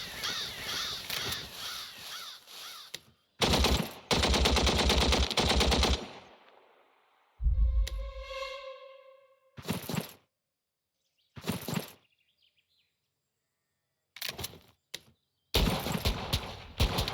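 Gunfire in a WW2 war video game set at Kursk, with rapid bursts of automatic fire separated by silent gaps and a ringing tonal effect in the middle, loud and close.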